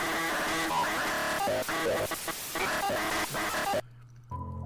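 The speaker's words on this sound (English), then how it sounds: "Just then, I heard an ear-splitting quacking noise." Loud, frantic quacking in a dense, harsh stream that fills most of the clip, then cuts out abruptly, leaving a brief low tone at the end.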